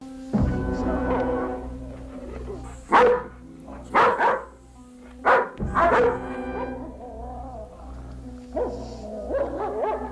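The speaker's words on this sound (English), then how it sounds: "The dogs can smell a stranger and they're raising the alarm." Several dogs bark loudly in short, separated bursts over a steady low hum, raising an alarm at a stranger, with some barks overlapping and a few softer yips near the end.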